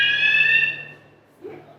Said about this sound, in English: If you get too close, the little alarm goes off.